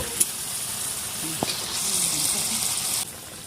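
Chicken curry being cooked down in a pan with a little added water, a steady soft sizzle with faint stirring and a brief clink, close by and without talk.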